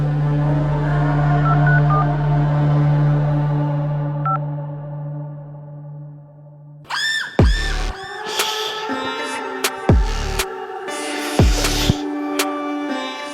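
Telephone dialing tones as a phone call is placed, with a steady tone early on followed by several loud, distinct bursts of dialing beeps, close and clear with no talk.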